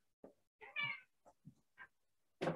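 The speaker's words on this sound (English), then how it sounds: "let me quickly open the door because I need to let a cat out of the room." A house cat meowing as a room door is opened to let it out, several short, soft meows and chirps with pauses between, close by in a quiet room, ending with a brief louder noise.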